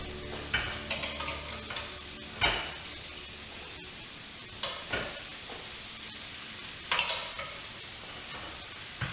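Confit duck being stirred in oil in a pressure-cooker pot, a steady sizzle broken by repeated scraping and clattering stirs, close and fairly loud, no voices.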